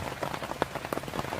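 Heavy rain pours onto a Dutch army canvas tent at a wild camp, with dense close patter and scattered louder drops striking the fabric, and no voices.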